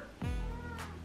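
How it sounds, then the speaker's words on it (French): A pet cat lets out a single short, grumbling meow close by, a low, complaining sound that rises briefly and then trails off. "Eh oui, évidemment c'est Spiro s'il râle comme ça."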